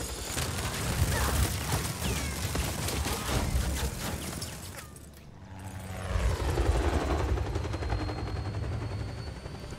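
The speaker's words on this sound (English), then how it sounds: "That is one nimble helicopter." Helicopter in the video game Just Cause 4, a loud continuous rotor roar with rapid bursts of gunfire over it, easing briefly midway before swelling back up close.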